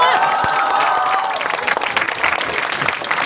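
An audience applauds after a festival session with Sudhir Mishra and Manoj Bajpayee, dense, loud clapping with some cheering that runs steadily and then thins into scattered claps.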